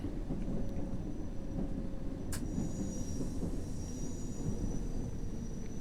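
A London Underground train in a simulator game slows under braking with a steady low rumble, a sharp brief click and a thin high squeal of wheels rising midway, without any talking.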